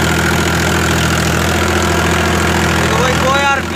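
Powertrac EURO 50 tractor running at about 1800 rpm in second gear with a 7-foot rotavator attached, a loud, steady close-up diesel drone with a constant low hum; a voice speaks briefly near the end.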